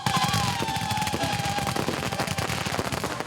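Fireworks crackle and pop in rapid, dense bursts during a nighttime torch procession at a Hakka cultural festival in Lunbei, Yunlin County, Taiwan; a steady loud barrage with a faint whistling tone, no speech.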